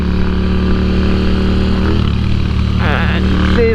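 A Moto Guzzi V7 motorcycle on a sunny ride gives a steady, loud, close engine drone with wind rush, a voice briefly heard over it near the end.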